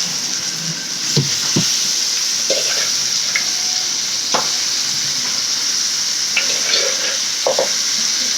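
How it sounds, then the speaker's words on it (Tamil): Chicken fries in a pan with a constant close sizzle, broken by scattered scrapes and knocks as it is stirred, with no talking. "இப்போ வந்து நம்ம வந்து கறி போட்டுக்கலாம்"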